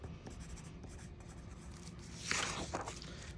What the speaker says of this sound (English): I'm going to write my name on my paper.